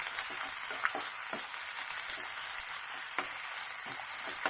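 A small onion sautes in oil in a pan for a chicken masala curry, giving a steady close sizzle and crackle with a few light stirring clicks and scrapes throughout.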